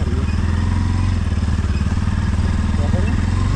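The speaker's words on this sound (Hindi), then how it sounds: "बाइक आ रही है।" A motorcycle engine rumbles loud and close, a steady low throbbing drone with faint talk mixed in.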